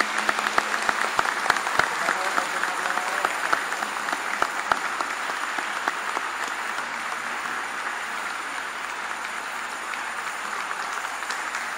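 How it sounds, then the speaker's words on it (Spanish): A church congregation applauds newly ordained deacons, sustained crowd clapping that holds steady for several seconds with a few sharp louder claps early on, resonant in a large space. "Vamos a darle un fuerte aplauso"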